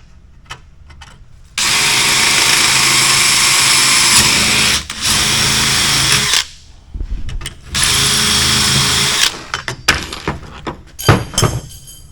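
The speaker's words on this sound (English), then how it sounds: "Drill a hole" A power drill whines loudly in two sustained bursts of a few seconds each, drilling a hole for a Cessna 172 instrument panel over plywood, followed by short clunks and handling noises.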